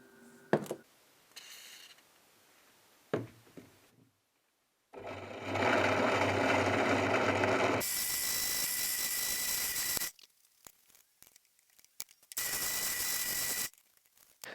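A power drill fitted with Bosch metal bits and lubricated with cutting oil bores into metal, with two long steady whirring runs separated by pauses, clicks and handling noise, loud and close.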